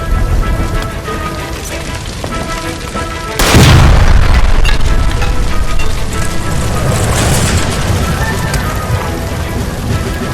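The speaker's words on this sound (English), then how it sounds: "Look, by the stove! Shoot the gas line, Cole, we're out of here!" A gas line explodes by a stove in the L.A. Noire video game: a sudden loud boom cuts through steady game noise and ambience, followed by a sustained rumbling crash and debris that persists at high level.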